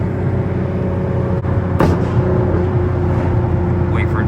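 A turbocharged 3.8 Hyundai Genesis Coupe drives with its boost controller off, making a low, steady engine drone with a sharp click partway through, close and fairly loud.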